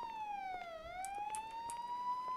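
A police car siren in FiveM on a Romanian roleplay server, one wailing tone that dips and then rises again, clear and fairly close over faint game background noise.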